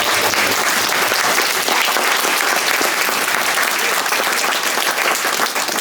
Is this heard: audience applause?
yes